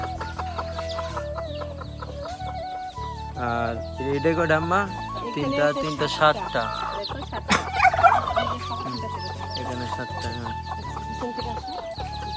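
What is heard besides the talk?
hens and chicks clucking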